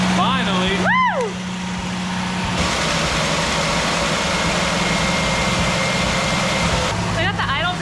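Jeep CJ7 engine running at a steady low idle after its idle was brought down, a continuous rumbling drone, with a few short high whines and chirps near the start and end.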